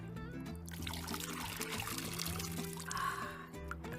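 Water pours and trickles steadily through a funnel at close range at a water park, with a soft splashing stream beneath faint background sound and a brief brighter gush near the end.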